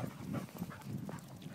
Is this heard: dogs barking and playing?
yes